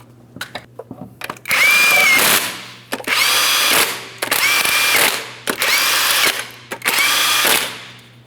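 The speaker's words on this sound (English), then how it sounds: "I'm going to start on all 5 of my 19mm lug nuts" A power tool rattles the 19mm lug nuts on a Ford Edge 3.5L V6 wheel, firing in about four loud bursts of a second or so each, with short ratcheting pauses between them and brief quiet gaps.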